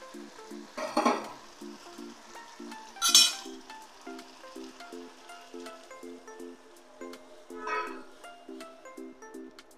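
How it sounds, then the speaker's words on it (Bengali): Water poured into a pan of boiled potatoes bursts into loud sizzling twice, then settles into faint bubbling with light metallic clinks of a utensil, close up and without talk. "এবার আমি জল দিয়ে দেব।"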